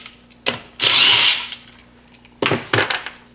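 A power tool backs out the cylinder head bolts on a DeVilbiss single-cylinder compressor in two close, loud bursts of whirring and ratcheting, with short mechanical clicks between them.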